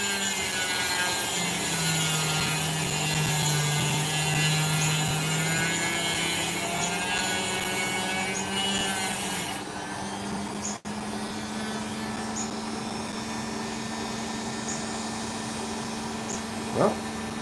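A saw cutting through an opal along a crack line, likely a wet lapidary saw: a steady close grinding and rubbing drone throughout, with a higher whine dropping off partway through and a brief tap near the end.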